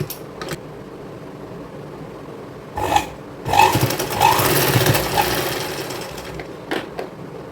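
A sewing machine stitches a strip of saree fabric with a low mechanical whir that swells into louder, rattling bursts in the middle, close by with no talking.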